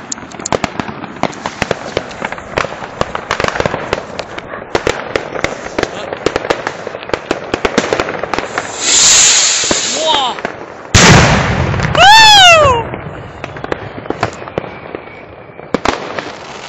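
A signal rocket firework, the 903 Donnerhall, launched on New Year's Eve: loud, rapid cracks and bangs in a dense series, then a rising whistle and heavy bursts, close and dominant with background voices.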